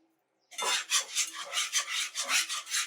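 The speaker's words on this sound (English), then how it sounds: "And we whisk it together." Whisk beating a dissolved sugar mixture for candied yams, a steady close scraping swish of rhythmic strokes, loud and alone with no voices.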